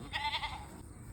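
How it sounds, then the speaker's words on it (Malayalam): A goat bleating once in a village, a short wavering cry heard faintly at a slight distance against low outdoor background noise. "ദേ ആട്."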